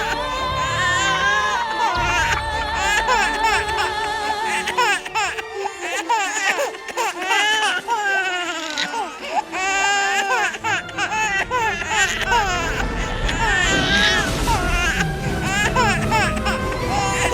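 A recorded baby cry played back, with dense wailing and sobbing-like bursts running continuously at steady loudness, mixed with busy harmonic voices; no clear separate speech over it.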